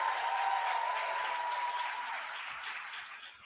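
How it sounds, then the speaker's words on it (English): Audience at a campaign event in Charlotte applauding a speaker as he leaves the stage, a dense wash of clapping that stays strong and fades slightly toward the end, with no talk over it. "Can we please applaud Desmond as he walks off the stage?"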